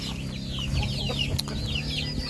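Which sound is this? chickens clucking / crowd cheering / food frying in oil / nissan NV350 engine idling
chickens clucking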